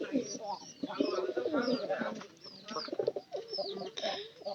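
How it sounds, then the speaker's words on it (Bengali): Domestic pigeons in a home loft where chicks have just hatched, cooing and chirping steadily with bright bird calls, and a voice talking in the background. "এই যে এই যে কবুতর গুলো আছে"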